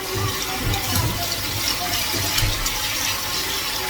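Water runs steadily from a tap while wild foraged mushrooms are rinsed, a continuous close splashing rush throughout with no pauses.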